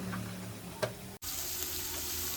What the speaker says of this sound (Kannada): ಫುಲ್ ಡೀಪ್ ಫ್ರೈ ಆಗಲಿ, ಗೋಲ್ಡನ್ ಫ್ರೈ ಆಗಲಿ